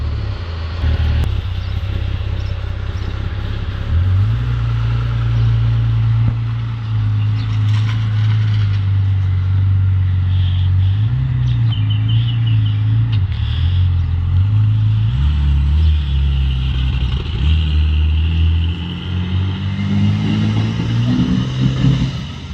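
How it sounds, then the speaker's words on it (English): A turbocharged VK Commodore car driving with the turbo on: a loud, deep engine rumble heard from close by that holds steady, steps up and down in pitch through gear changes and rises again near the end. "Just going to take it around the block for the first time with the turbo on."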